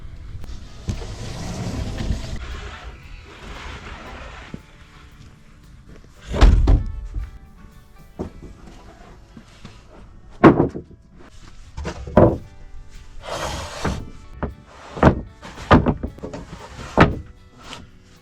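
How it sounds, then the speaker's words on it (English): Header lumber being unloaded from a truck onto sawhorses at a Montana barndominium framing site: scattered heavy wooden thunks and knocks, some loud and close, with rustling handling in between. "get all this header material off the truck and onto the sawhorses"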